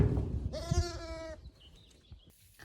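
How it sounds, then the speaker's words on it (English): A newborn ewe lamb on a sheep farm gives one clear, close bleat with a wavering tone, followed by quiet outdoor background. "It's a little baby ewe lamb."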